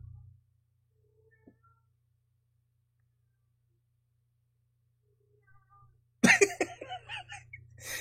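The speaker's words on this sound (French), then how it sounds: "You hear the cats?" Several cats meow loudly and close together in a short cluster of cries that breaks a long near-silence, with only a faint low hum beforehand.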